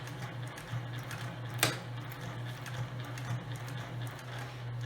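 A sewing machine set to back stitch hums steadily while stitching fabric, with a low motor tone and faint rapid ticking of the needle, quiet and close, plus one sharp click.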